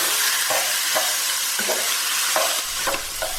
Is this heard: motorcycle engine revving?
no